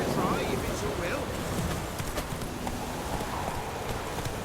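Horse hooves clip-clopping from Roach, the horse in The Witcher 3: Wild Hunt, a soft, steady gait heard faintly beneath wind and ambient game sound.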